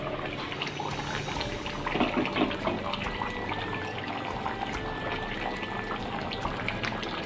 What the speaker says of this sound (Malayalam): കറിയെല്ലാം നല്ലപോലെ തിളച്ചിട്ടുണ്ട്.